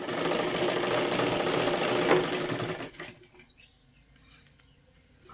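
Sewing machine stitching a princess blouse, a rapid steady whirring chatter for about three seconds, then stopping into near quiet with faint handling sounds.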